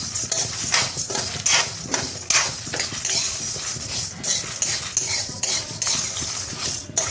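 Makhana (fox nuts) being stirred as they dry-roast in a pan over a medium flame, giving a steady run of light scraping and rattling clatter with no talk.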